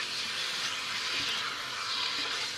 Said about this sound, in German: Unser Fleisch wird jetzt nun schön scharf angebraten